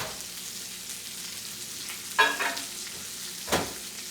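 Prosciutto-wrapped salmon sizzling quietly in a pan, a low steady fry broken by two brief clattering stirs of a utensil.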